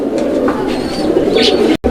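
Fancy pigeons on a farm coo steadily and close by in a soft, continuous murmur, with no talk over them.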